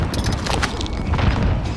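A grenade explosion in a video game, a loud, close boom with crackling debris over a dense rumble lasting under two seconds.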